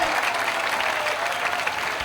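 Dense applause and cheering from a crowd at a men's sepak takraw match, Myanmar playing, fills the arena as a continuous, moderately loud roar of clapping with no break.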